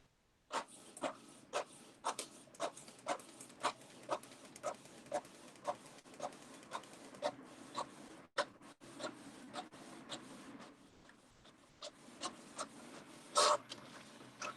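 A printer runs with repeated clicking and ticking mechanical strokes at a steady pace over a quiet hum, faint and fairly close.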